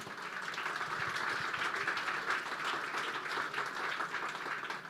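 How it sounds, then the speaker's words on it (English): A dense crowd at the opening ceremony of the sixth-generation Peak Tram in Hong Kong applauds steadily, a continuous wash of clapping that stays even in loudness for several seconds. "Please give her a huge round of applause."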